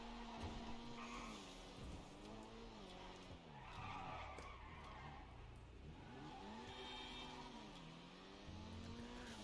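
A Dinka Jester RR sports car in a video game oversteers and skids. Its tires squeal in a continuous, wavering whine over a steady engine drone, sustained throughout and fairly close.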